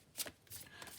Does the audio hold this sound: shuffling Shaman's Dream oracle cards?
yes